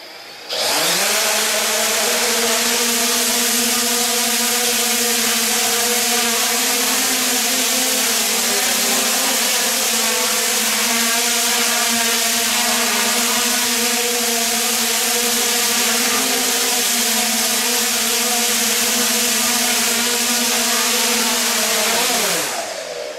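A 3DR Solo drone's motors spin Master Airscrew propellers at speed, a loud, steady, buzzing whine that holds throughout and winds down at the end.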